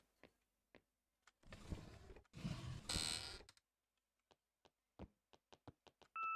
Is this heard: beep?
yes